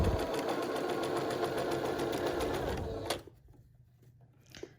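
A sewing machine stitches fabric for a homemade filtered face mask, running in a fast, steady, loud rattle for about three seconds, then stopping abruptly and leaving faint handling noises.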